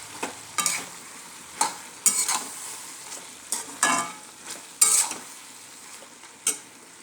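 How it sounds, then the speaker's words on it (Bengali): Tomatoes frying with chili paste while being stirred in a pan, with a steady sizzle under repeated spatula scrapes and clinks at irregular intervals, close and with no talk. "মরিচ বাটা দিয়ে আর একটু কষিয়ে নেব"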